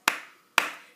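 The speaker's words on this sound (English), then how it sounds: "Can you clap just like me?" Two sharp hand claps about half a second apart, close and crisp, each with a short ringing decay, and no voices.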